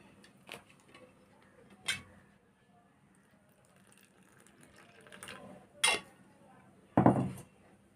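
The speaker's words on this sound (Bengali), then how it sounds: "এটাকে আমি ভালো করে প্রথমে চামচ দিয়ে মিক্সড করে নিচ্ছি এমনি, তারপর জল দিয়ে একে আমি পেস্ট বানিয়ে নিচ্ছি" A spoon stirs a paste with water in a bowl, giving sparse clinks and taps against the bowl with soft scraping between them, close and fairly quiet.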